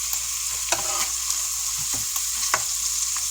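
Hamburger meat browning in a pan for homemade Salisbury steak gives off a steady, close sizzle, broken by a few soft scraping stirs and no talking.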